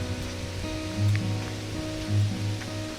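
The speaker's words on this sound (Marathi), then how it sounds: "मस्त असा पाऊस चालू झाला आहे" Monsoon rain falls steadily at Madhe Ghat, a continuous wash of patter with a low rumbling undertone and two brief swells, no talking.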